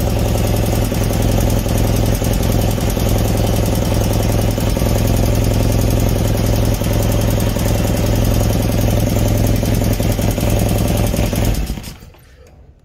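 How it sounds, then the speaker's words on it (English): A 1976 BMW R90/6 airhead motorcycle engine runs at a steady idle, a loud, close, even mechanical thrum with a faint knock that holds for about twelve seconds, then cuts off abruptly. "Okay, so not a bad sounding motor, right?"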